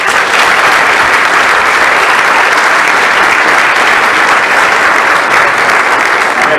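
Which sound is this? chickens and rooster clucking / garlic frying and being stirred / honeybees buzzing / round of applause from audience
round of applause from audience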